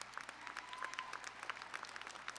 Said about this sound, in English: a nice round of applause for them